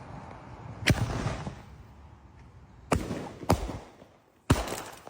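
A firework is launched from a tube that tips over from recoil, giving several sharp loud bangs, one alone and then three in quick succession, each a sudden crack over quiet outdoor background.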